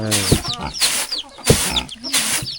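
Chickens clucking in a remote rural village without electricity: several hens cackle and cluck close by in short bursts, with small birds chirping and brief voices in the background.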